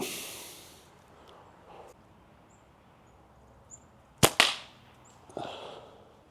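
A slingshot with a kangaroo leather pouch fires outdoors, giving a quick pair of sharp snapping releases close together, followed a second later by a softer whooshing hit, with quiet ambience between.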